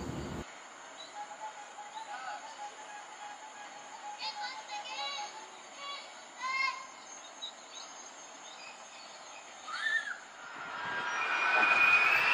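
A sugarcane lorry train hauling empty cars passes with rolling rumble and faint wheel squeals, children's voices and birds audible, then a loud rushing swell as it draws close.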